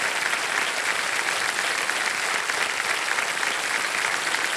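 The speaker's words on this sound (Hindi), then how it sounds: "तालियां बजते रहे" Studio audience on a televised quiz show applauding steadily, a dense, even roar of many hands clapping that holds at constant loudness throughout without a break.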